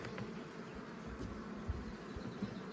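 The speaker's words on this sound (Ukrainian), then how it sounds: "Бачу з пилком лазить вже бджоли деякі" A low, steady buzz of honey bees droning close by at a hive, continuous and fairly even, with a couple of soft bumps.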